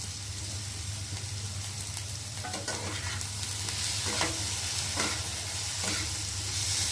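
Chopped tomato with turmeric and chili powder fries in a pan, making a close, continuous sizzle broken by repeated scraping stirs from a spoon, with no talking.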